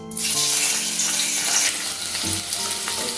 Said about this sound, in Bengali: গ্যাসটা মিডিয়াম ফ্লেমে রেখে পনিরটা ভেজে নিচ্ছি আমি এটা সর্ষের তেলে ভাজছি